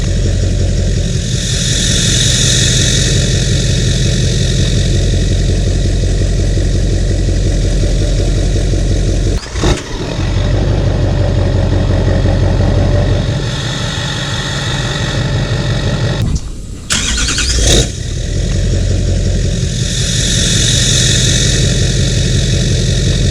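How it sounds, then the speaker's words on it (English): A Duramax diesel pickup engine in race tune, cold started and idling: a steady, loud, continuous rumble close by for the whole stretch, broken only by two brief dips, with no talking. "I'm going to fire up the Duramax to hear if the turbo whistle is also louder on a cold start"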